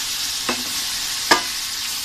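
Beef oxtail sautéing in a pan for kare-kare: a continuous bright sizzle with two brief scraping knocks of a utensil, no voices.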